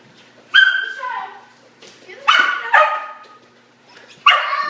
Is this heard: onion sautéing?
no